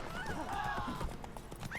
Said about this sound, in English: I like how the horses are like freaking out right now